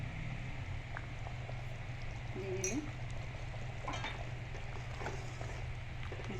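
Paneer and cornflakes mixture simmering in a pot, a steady low bubbling hiss throughout with a few light utensil clinks near the middle, close and moderately quiet; a voice speaks briefly.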